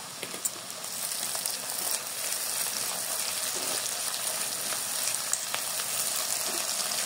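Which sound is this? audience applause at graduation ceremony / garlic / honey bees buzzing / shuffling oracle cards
garlic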